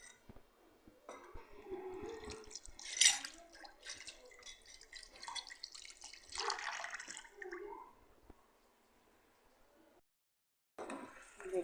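Water poured into marinated meat masala in a cooking pot for a pasande bhuna dish, a steady splashing, dripping pour lasting several seconds, close and fairly quiet, then a short pause before the liquid sound resumes.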